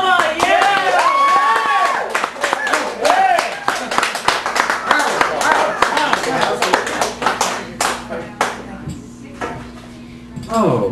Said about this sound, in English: please give it up for Mr. Al DeGenova